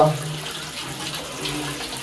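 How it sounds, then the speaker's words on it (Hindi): Water running steadily from a tap while clothes are washed, a continuous close splashing flow with no voices. "पता नहीं किसके कपड़े धो रही है वो"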